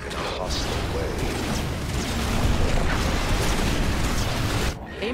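A destroyed unit blows up in a StarCraft II co-op mutation match, a dense, sustained roar of blasts and rumbling debris filling several seconds before cutting off abruptly.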